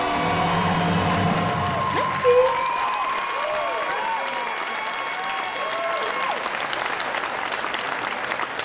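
An audience applauds a singer just after her song ends: dense, sustained clapping with a few whoops, loud and steady throughout, as the last musical notes fade at the start.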